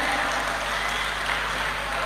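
Audience clapping at a Hindi comic poetry gathering, a steady dense wash of applause lasting about two seconds, fairly loud and continuous with no clear individual claps.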